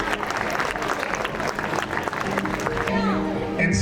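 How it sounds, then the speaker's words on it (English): Applause at a school's annual exhibition for a student who won first prize among 16 schools, clapping under a lively hall with voices and a brief whistle-like tone near the end. "Let us give her a round of applause."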